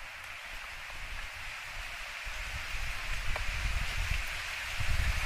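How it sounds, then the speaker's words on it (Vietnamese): Steady rain falling outdoors over a plantation of rosewood saplings, a continuous hiss of drops with low rumbling gusts that swell toward the end, no voices. "Mưa."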